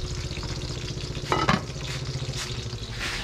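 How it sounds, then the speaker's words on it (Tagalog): Dinuguan boiling in a deep pot gives a steady, close, bubbling sizzle with constant splattering and no voices. "Pakuloy na natin yan, huwag natin haluin. So talsik-talsik, malalim kasi itong kaldero natin."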